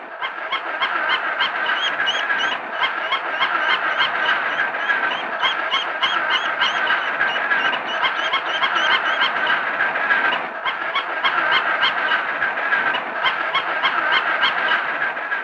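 A young duckling peeps steadily and loudly up close, a continuous run of high repeated chirps that barely pauses, while a mechanical toy moves nearby.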